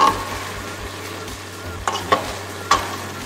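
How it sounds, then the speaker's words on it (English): Rice boiling down in a pan is stirred close up, with a steady bubbling hiss beneath three sharp scraping strokes of the spoon against the pan. "So you just keep stirring to make sure that the water comes down completely and your rice is not sticking to the bottom of the pan."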